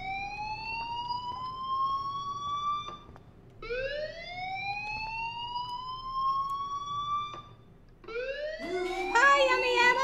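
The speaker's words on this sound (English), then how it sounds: "Hey, do you hear that fire alarm?" Fire alarm in the game Life is Strange, rising tonal wails that repeat three times with brief gaps, fairly loud and steady, a voice briefly heard near the end.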